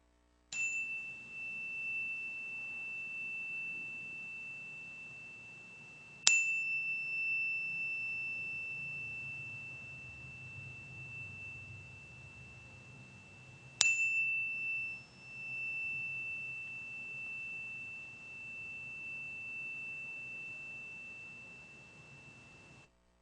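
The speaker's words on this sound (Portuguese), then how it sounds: "mas quero tocar aqui um sino." A meditation bell rings three times during a quiet relaxation practice, each bright clear strike leaving a long, slowly fading sustained tone in a silent room.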